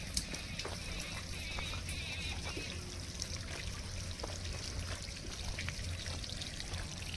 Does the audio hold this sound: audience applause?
no